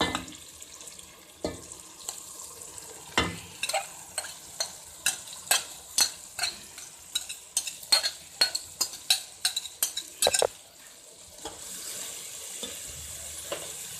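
White lentils (daal mash) frying in a pan, heard as a run of sharp, regular scraping clicks as a spoon stirs them, with a low sizzle continuing underneath and steadier frying at the end.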